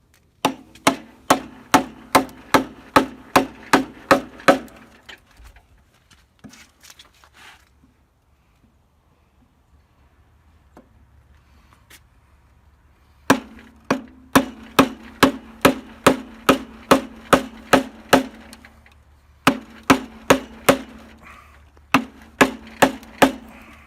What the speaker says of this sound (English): this is a carving mallet. Handmade out of Bradford pear.